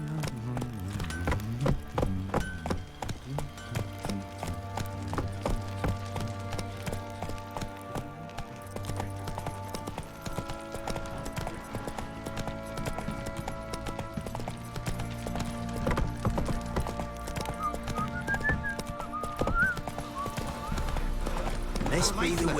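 Horse hooves clip-clop steadily in The Witcher 3, a continuous rhythmic trot under game music and occasional voices talking.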